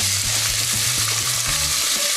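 Onion and carrot sizzle in a frying pan generously coated with vegetable oil that was not preheated, giving a loud, continuous, close-up hiss with faint stirring knocks underneath and no voices.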